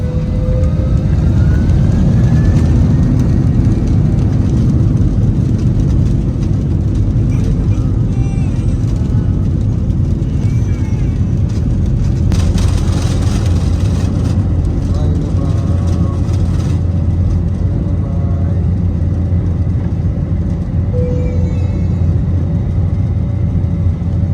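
Airplane engines droning inside the cabin before takeoff, a loud, steady low hum throughout, with talk and a cabin announcement over it.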